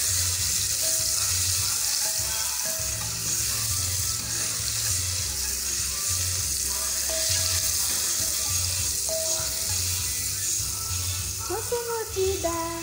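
Chopped onion frying and browning in a very hot pot for a Mozambican tomato sauce, a steady close sizzle and hiss running throughout with a few soft clinks and stirring sounds.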